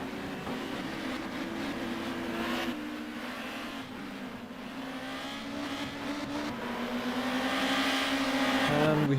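Honda touring cars racing at Varano in a TCM round, engines droning loudly and continuously as two cars battle closely, the pitch shifting and climbing with acceleration toward the end.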